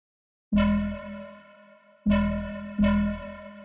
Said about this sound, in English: it's essentially just saturation, a little bit of distortion, OTT